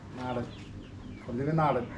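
Rooster on a terrace poultry farm gives a couple of close, throaty clucks in two short bursts, with people talking around it.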